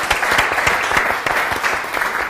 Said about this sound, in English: So I wanted to give you a very good applause for doing that for us